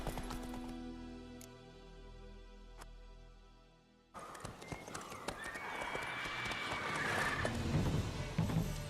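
Hooves clop as the horse Roach gallops in The Witcher 3, with a whinny, the pace picking up after a short pause and continuing over game ambience.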